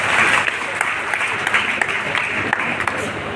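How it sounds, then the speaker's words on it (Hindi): A crowd at a youth event in Bihar claps loudly for a few seconds in a continuous burst of applause, with a few sharper claps standing out and a voice briefly audible under it. "आप लोग ताली बजाइए"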